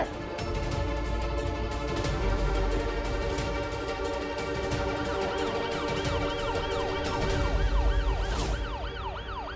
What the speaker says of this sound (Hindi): ये देख, सायरन की आवाज सुन रही है?